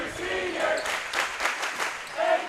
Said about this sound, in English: And now a round of applause, curtain call for